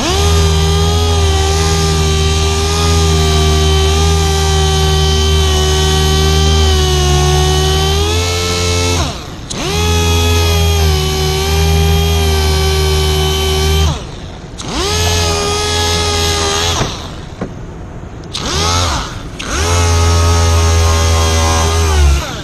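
Power sander buffing out a clear coat run on a car's finish with 3000-grit paper, a loud steady whine running continuously with brief dips and pauses near the end, no talk.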